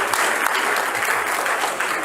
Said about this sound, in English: So we should give them a hand of applause